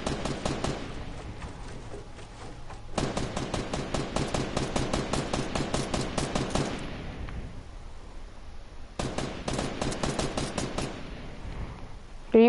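Rapid bursts of automatic gunfire from a video game duo match crackle in long runs, broken by a short lull, loud and close with no talk over them.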